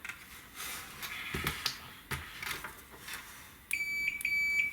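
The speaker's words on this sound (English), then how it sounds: "If we grab our meter here, and we test this for continuity, you can see that I have." A multimeter's continuity beep while testing traces on a Mortal Kombat 2 arcade PCB: faint probe taps and clicks, then a steady high-pitched electronic tone that sounds near the end with brief interruptions.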